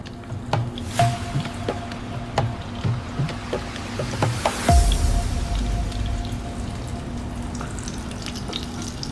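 Chicken shashlik skewer dropped into a pot of hot oil on the stove, giving a sudden loud sizzle midway that settles into steady close frying, with a few clicks and taps before it.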